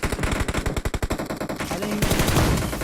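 Rapid automatic gunfire in Battlegrounds Mobile India, a burst of loud evenly spaced shots over about a second and a half, then a denser mixed rattle of distant firing with no talk.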